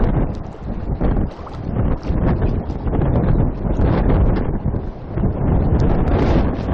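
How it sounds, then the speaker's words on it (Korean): Strong gusting wind roars loudly against the microphone at a seawall on Jeju during rockfishing, a continuous buffeting rush with surging swells and no clear break. "어마어마합니다, 바람이."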